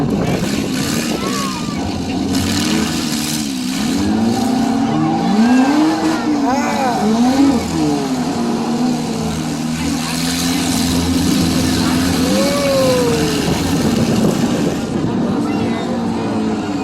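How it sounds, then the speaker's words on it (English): Demolition derby cars fire up and rev their engines together, a steady loud mechanical roar with rising and falling pitch sweeps as throttles are blipped, crowd and voices audible underneath. "Start them up, fire them up, let's go!"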